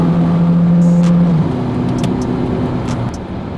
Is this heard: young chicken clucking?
no